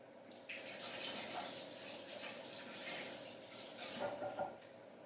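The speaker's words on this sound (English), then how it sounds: "And then wash your hands." A kitchen tap runs in a faint, steady hiss while hands are washed after peeling beetroot, with a few light clinks near the end.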